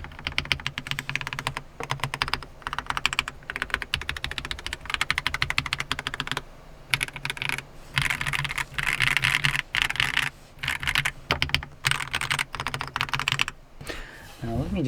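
Fast, steady clacking of a Keychron V6 Ultra mechanical keyboard with a lubed spacebar, close and continuous for the whole stretch, with brief pauses between bursts of keystrokes.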